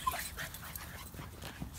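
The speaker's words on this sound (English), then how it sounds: "look, some of the dogs have returned" Several dogs whimper and let out soft yips at close range, a restless, excited chorus of short whines scattered over a quiet background.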